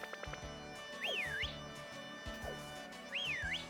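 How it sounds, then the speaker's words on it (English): Whistling from the video game Pokemon Sword: a rising and falling whistled melodic phrase heard twice, over a rhythmic game music backing with light percussive beats. "I did forget about the whistling."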